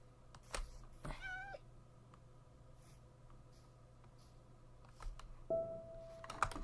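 A Minecraft cat gives a couple of quiet, short meows over a faint game background, with soft clicks scattered between them and a brief higher tone near the end.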